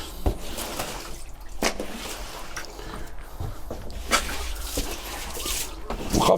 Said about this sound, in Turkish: Patatesleri arkadaşlar her gün böyle yıkıyorum